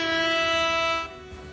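A loud, sustained horn blast with a steady harmonic tone holds for about a second, then cuts off, leaving a quieter background.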